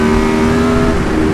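An Aprilia Tuono V4 1100 Factory motorcycle accelerates hard in third gear, a loud close engine roar with a steady rising tone and strong wind rush over the brief moment.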